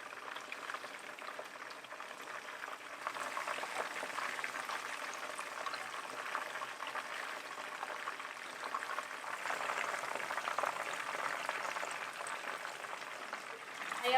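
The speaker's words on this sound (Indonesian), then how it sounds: "masak sisi satunya sampai garing kecoklatan juga" Chicken pieces fry in hot oil until crisp and browned, with a soft, continuous bubbling sizzle and crackle that holds steady throughout, quiet and with no voices.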